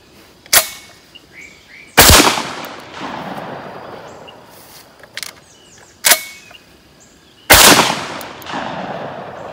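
A Citadel Warthog shotgun fires several loud outdoor shots at uneven intervals, each a sharp blast followed by a decaying echo, with fainter distant gunfire between them.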